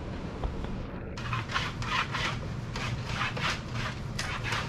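A fish tape scrapes and rubs as it is fed through the inside of a wall cavity while wiring a 220 volt light switch, giving repeated close, raspy strokes in an uneven rhythm, with no talk.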